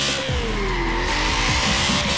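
A BMW E30 drift car in Forza Horizon 4 squeals its tires in a sustained slide while the engine drones and revs underneath, loud and close with no voices.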